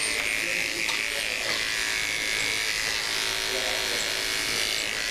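An electric clipper buzzes steadily while trimming matted fur on a small Shih Tzu, its fixed whine running close and unbroken throughout.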